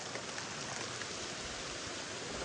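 Steady rain on the Muar River hisses as a faint, even wash of noise, with no voices or other distinct sounds.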